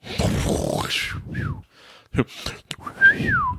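A person tries to whistle in short, breathy bursts with rising and falling tones, broken by gasps and grunts, close up.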